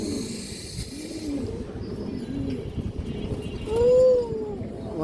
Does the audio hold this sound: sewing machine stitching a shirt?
no